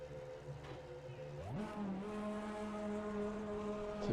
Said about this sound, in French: Très beau bruit aussi du moteur.